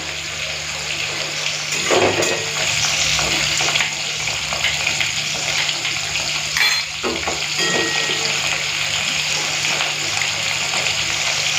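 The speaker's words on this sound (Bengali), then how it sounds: "এদিকে পেঁয়াজটাও লাল করে ভাজা হয়েছে আদা রসুন বাটাটা দিয়ে দেবো" Onions fried until red in a pan, with ginger-garlic paste just added, give a loud, continuous close-up sizzle broken by occasional stirring scrapes.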